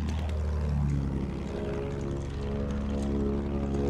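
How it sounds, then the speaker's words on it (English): A bomber aircraft in Battlefield 1 drones steadily overhead, its propeller engines giving a continuous, moderately loud rumble with no voices over it. "I see a bomber moving around"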